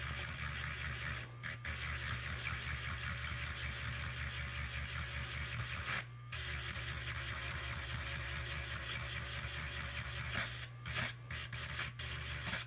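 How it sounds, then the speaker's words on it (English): A power tool runs slowly while sanding resin, giving a faint, steady low hum with a continuous rasping rub and a few brief dips, with no speech. "I'm going to stay at this RPM because it's cutting the resin slowly."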